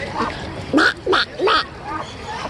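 Ducks at an ostrich ranch, three loud, close, raspy quacks in quick succession, with fainter calls and people talking around them.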